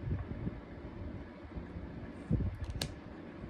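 Wind gusts outdoors in a steady broad rumble across the microphone, with a brief louder buffet partway through.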